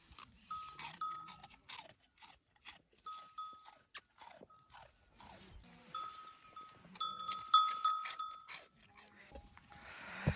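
Goats and sheep shuffle and bleat intermittently nearby on a Himalayan mountain trek, with small bells clinking and crunching steps throughout.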